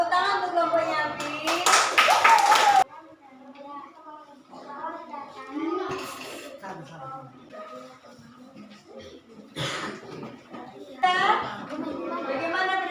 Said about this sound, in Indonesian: Oke, tepuk tangan untuk kelompoknya Abi